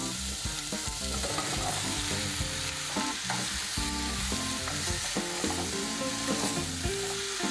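Garlic, onion and pumpkin fry in a pot already used for cooking bacon, giving a continuous sizzle with some stirring. Music plays steadily underneath.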